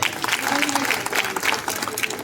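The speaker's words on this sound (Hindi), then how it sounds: "आप लोग सभी बार काउंसिल वालों के लिए जोरदार ताली बजाए" Applause rises for bar council members at a Dehradun advocates' gathering, a dense continuous clatter of many hands clapping at close range for a couple of seconds.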